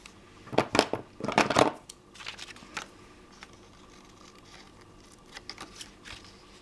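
Scissors cutting down a large botanical book page, a cluster of crisp close snips and paper rustles early on, then quieter scattered handling sounds.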